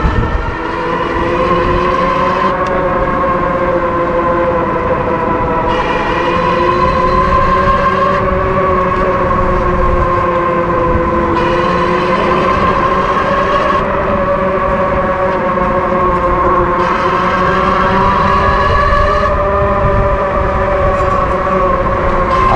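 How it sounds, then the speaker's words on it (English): A motorbike ridden right beside the sand gives off a loud, unbroken engine drone for the whole stretch, its pitch gently rising and falling, with no talk over it. "I like how loud the motor is because it kind of warns people that you're coming"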